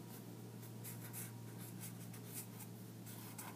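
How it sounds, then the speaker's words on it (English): A pen sketches bushes onto a hand-drawn map, producing quiet, close, steady scratching strokes with small squiggly bursts and no talking. "and now we're drawing bushes"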